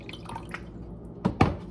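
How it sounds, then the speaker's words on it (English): Water poured into a blender jar holding oats gives two brief splashing bursts near the end, close and fairly quiet, after a soft, low background. "so I'll take 4 cups water,"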